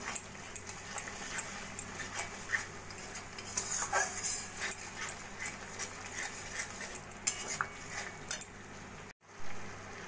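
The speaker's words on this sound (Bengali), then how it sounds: "নুন, হলুদ আর জিরের গুঁড়ো দিয়ে মশলাটা ভালো করে কষিয়ে নেব" Spice paste with salt, turmeric and cumin powder being stir-fried for a Bengali vegetarian bora dish, a steady low sizzle with scattered scraping and clinking of a spoon against the pan, one brief dropout near the end, no talking.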